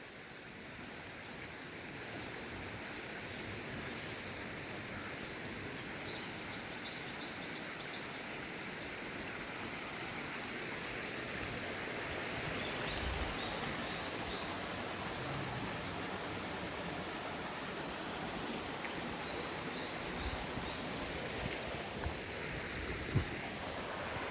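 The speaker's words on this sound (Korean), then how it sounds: "저기 조그만한 폭포도 하나 있네요" A small waterfall in a forest stream along a mountain hiking trail, running high after rain, gives a steady broadband rush of falling water heard up close and unbroken, with no talking.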